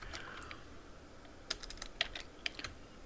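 A terminal command being typed on a computer keyboard: soft, uneven key clicks at first, then several sharper, louder keystrokes tapped close by in an irregular rhythm, with no voices.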